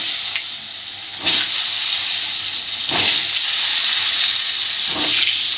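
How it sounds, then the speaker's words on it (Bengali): Pieces of pointed gourd fry in hot oil with a loud, close, steady hiss, and a few louder sizzling bursts rise as more pieces go in. No one speaks. "তেল গরম হয়ে গেছে, পটলগুলো ভেজে নেব।"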